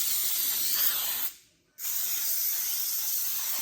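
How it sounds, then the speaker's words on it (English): Cooking spray is sprayed into a cake pan in two close, steady hissing bursts separated by a brief silent pause, loud and airy with no talk. "I'm going to put a little bit more spray in it"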